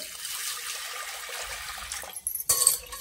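Water pours and splashes onto toor dal in a pressure cooker, a close, steady rush that grows louder and more broken near the end, with no voices.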